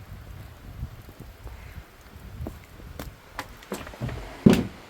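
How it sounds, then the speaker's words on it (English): Rain falls in a garden as scattered drops and light taps on surfaces, soft and fairly faint, with a sharper knock or thud near the end. "it's raining, but"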